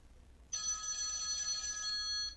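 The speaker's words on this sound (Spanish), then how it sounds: "me está sonando el celular" A mobile phone rings with a steady electronic tone that starts abruptly and holds for nearly two seconds, clear and close over faint room noise, with no talking.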